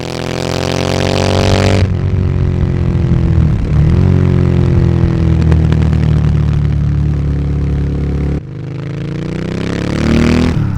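A Royal Enfield Interceptor 650 twin fitted with an 865 big bore kit pulls hard through the gears, its engine note rising in strong harmonic sweeps, dropping at shifts and climbing again, loud and close with wind rush throughout.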